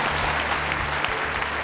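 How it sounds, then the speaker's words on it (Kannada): Audience applause at a Kannada television show fills the space steadily, a dense, even wash of clapping heard up close with a low hum beneath and no talking over it. "ಚಪ್ಪಾಳೆ ಹೊಡೀರಿ ಇವಳಿಗೆ."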